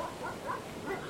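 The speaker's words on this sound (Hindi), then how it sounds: "उसे अपने पीछे भागते हुए कुत्तों की आवाज सुनाई दी।" Dogs bark and whimper while running behind someone, heard as a few short yelping calls at moderate distance over a faint background.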